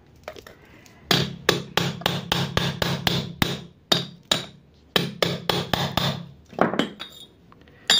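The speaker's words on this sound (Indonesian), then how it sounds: "ketok ini pakai palu di sini, atasnya ini pakai palu." Hammer tapping a CVT bearing onto its shaft on a Honda Beat FI scooter, a rapid run of sharp metallic knocks in bursts with brief pauses, close and loud.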